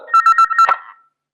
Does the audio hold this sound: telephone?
yes